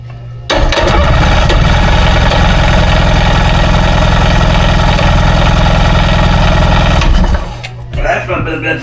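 A cheap secondhand jet ski's engine cranks from a jump box in one long, loud, rapid rhythmic churn lasting about six seconds before cutting off, close and harsh.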